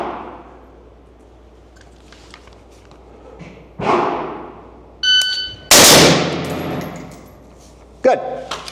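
Rifle shots fired during ready-up practice drills ring out as sharp, loud cracks in quick pairs and singles, separated by quiet pauses, with faint clatter between strings.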